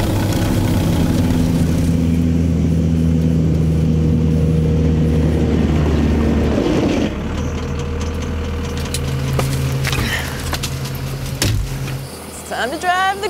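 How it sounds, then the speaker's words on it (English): A snow groomer's engine runs steadily at close range while it drives, its low drone shifting partway through, with clanks and mechanical rattles near the end and people talking over it. "Time to drive the groomer."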